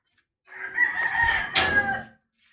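A single loud rooster crow close by in a Philippine neighborhood, a drawn-out strained call lasting under two seconds, with quiet surroundings before and after.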